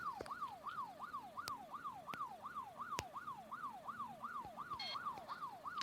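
A fast yelping police car siren in a mobile driving game sweeps up and down over and over at a quick, even rhythm, with a few sharp clicks scattered over it.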